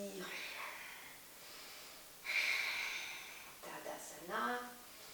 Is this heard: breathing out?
yes